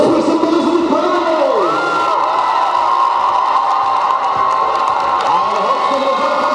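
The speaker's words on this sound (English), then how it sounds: "Let's put some noise in the crowd!" A crowd at a roller derby bout keeps up loud, continuous cheering and whooping, with voices shouting over the dense roar throughout.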